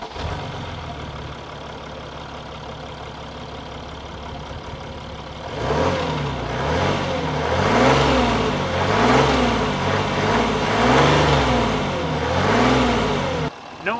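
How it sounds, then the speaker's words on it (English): A 2013 Mercedes-Benz GL 350 Bluetec diesel SUV sits at a quiet, steady idle, then after about five seconds revs repeatedly in rising and falling bursts, loud and close with no talk. "Not the best sounding engine in the world, but that's not what you would expect from a diesel engine like this."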